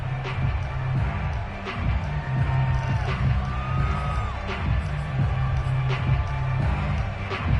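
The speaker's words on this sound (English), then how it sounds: "Crowd getting in it a bit already." A stadium crowd at a football game keeps up a steady, continuous roar for the whole stretch, with a few whistles and shouts rising out of the noise.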